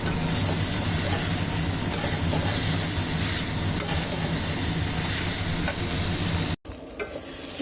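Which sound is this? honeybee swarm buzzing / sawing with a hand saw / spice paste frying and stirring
spice paste frying and stirring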